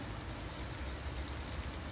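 Steady rain pattering on the trees of a forest around Green Lake, Washington, a dense, even hiss that holds constant at a moderate level throughout.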